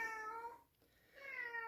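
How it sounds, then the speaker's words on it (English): A pet cat meows twice at close range, two clear harmonic calls separated by a brief pause, with no talk over them. "My cat's meowing at me."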